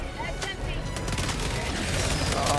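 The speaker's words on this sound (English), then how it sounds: "I'm not enjoying these shots." Dense, continuous gunfire from a bug-hunting firefight in Helldivers 2, a steady barrage of overlapping shots and blasts with faint voices underneath.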